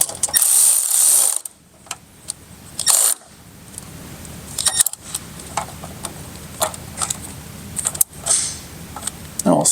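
A ratchet snugs up the bolt on a Rokblokz step-back mud flap bracket on a 2020+ Chevy Silverado HD, giving a series of short, irregular clicking bursts close by, with brief pauses between them.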